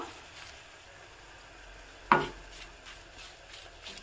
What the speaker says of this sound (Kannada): ನಾನಿಲ್ಲಿ ಸ್ವಲ್ಪವನ್ನು ಎಣ್ಣೆ ಬಳಸ್ತಾ ಇಲ್ಲ, ಹಾಗೆ ಡ್ರೈ ರೋಸ್ಟ್ ಮಾಡ್ಕೋತಾ ಇದ್ದೀನಿ